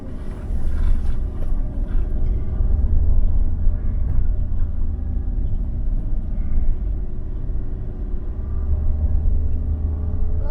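A car being driven near a village dam gives a low, steady engine rumble and road noise throughout, close and continuous, with no voices heard.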